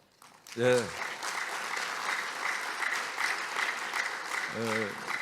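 Audience applause fills the hall at the opening ceremony of the 2025 Kim Dae-jung Peace Conference, a steady, dense clatter of many hands lasting several seconds, with a voice briefly heard at the start and again near the end.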